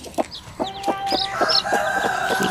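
A hen clucks in short repeated bursts close by, with chicks peeping high and thin between her calls, in a rural yard in Ceará, Brazil.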